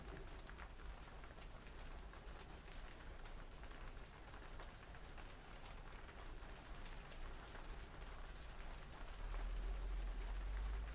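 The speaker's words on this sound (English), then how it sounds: "It's raining out there now. I can hear the rain hitting the studio." Rain pattering on a studio roof, a faint dense hiss of countless small drops with scattered sharper ticks, steady throughout with a slight low rumble near the end.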